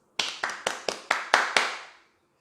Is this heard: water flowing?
no